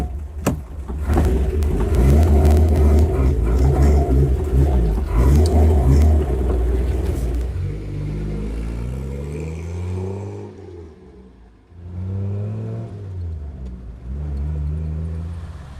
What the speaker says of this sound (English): This powerful and efficient 6-cylinder engine makes an impressive amount of horsepower and torque.